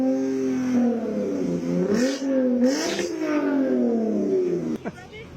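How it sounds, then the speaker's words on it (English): A car engine with a loud exhaust idles and is revved twice in quick blips, the roar rising and falling close by while people talk nearby. "You can rev it if you want to."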